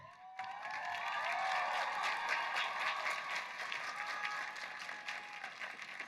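At a 2019 CSUMB graduation ceremony for the College of Education and College of Science, an audience claps in a sustained burst of applause that fills the hall and holds steady for several seconds.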